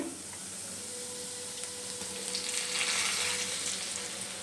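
Garlic, curry leaves and ground chilli, cumin, mustard and fennel powders fry on low heat in a pan for tomato pickle, giving a steady, even sizzle that swells slightly midway, with no voices.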